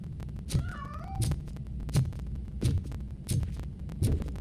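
A cat meows in the video game RoboCop: Rogue City, with a few short plaintive mews standing out over a low, steady rhythmic throbbing pulse in the background.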